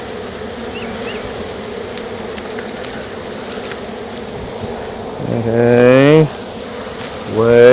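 A honey bee swarm on a multiflora rose bush gives a steady, dense buzzing hum, with two loud, close bees droning past; a person briefly speaks.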